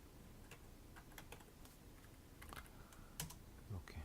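Computer keyboard keys pressed in a quiet, irregular series of light clicks, with a few quicker clusters and a slightly louder tap near the end, against a faint background hiss.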